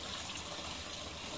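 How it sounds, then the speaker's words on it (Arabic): Water poured steadily into a bucket to mix a plant spray for home fruit trees, a continuous close gushing fill with no talk. "نحط مية"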